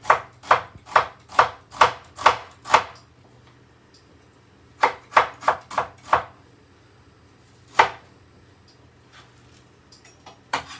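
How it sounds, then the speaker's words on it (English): An onion being chopped on a board, a quick run of about seven sharp knife strikes, a pause, a second burst of four or five, then one lone chop, close and crisp with no talk. "So I'm going to finally chop this onion."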